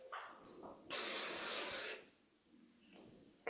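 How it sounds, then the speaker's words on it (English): A single sustained burst of aerosol spray hisses loudly for about a second, close up, with quieter rustling before and after. "And then I go around and spray the rest of it,"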